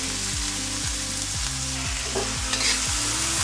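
Cabbage, carrots, wood ear mushrooms and lily flowers for moo shu pork are stirred in a hot pan, spatula scrapes repeating in a steady rhythm over a constant close sizzle, no voices.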